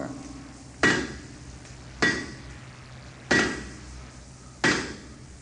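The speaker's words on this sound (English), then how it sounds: "I'm going to tap on the vault with my revolver." Four sharp metallic taps of a revolver on a metal vault, evenly spaced about a second apart, each with a short ringing decay over a faint background hum.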